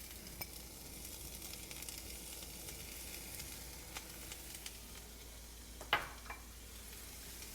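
Onions and peppers sizzling in a pan for a breakfast omelette, a steady faint hiss throughout with an occasional soft tap and one brief louder clatter near the end.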